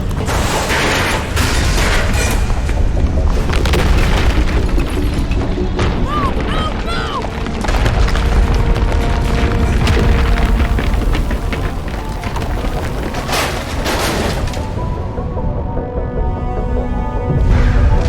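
Volcanic eruption in the Mass Effect video game, heavy booms and rumbling blasts with mechanical clatter rolling on continuously, loud and close.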